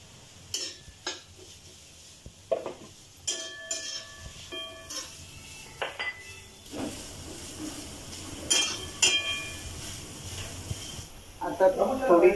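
Vertically sliced onions from two large onions are tipped into a pan and stirred for vajri masala. Scattered metallic clinks and scrapes of a spoon on the pan mix with a soft sizzle while someone talks.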